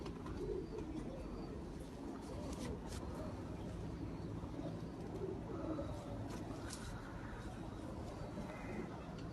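Pigeons coo faintly amid a dense, noisy outdoor background, with soft repeated low calls partly buried under steady rumble and occasional chirps.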